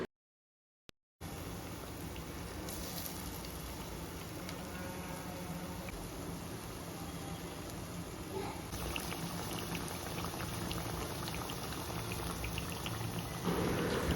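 Banana fritters (Kerala-style pazham pori) deep frying in hot oil give a steady, dense bubbling hiss that fills the whole stretch after a brief silent start, swelling slightly toward the end.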